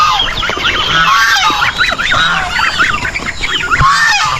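Chicken chicks and other poultry chicks on a farm peep constantly in a dense, loud, high chorus of overlapping chirps.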